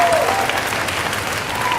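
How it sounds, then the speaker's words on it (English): A crowd at a school athletic banquet claps steadily throughout, a dense, even wash of applause from many hands, loud and close. "So please give them a round of applause."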